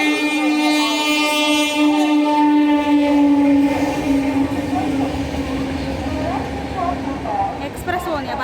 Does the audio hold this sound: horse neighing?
no